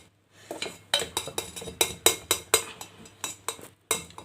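A spoon stirs protein cake batter with flour in a bowl, giving a regular series of close, sharp clinks and scrapes against the bowl's side, about two per second, with no talking.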